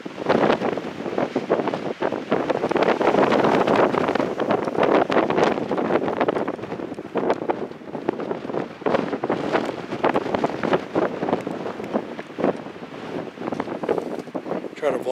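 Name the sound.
wind blowing on microphone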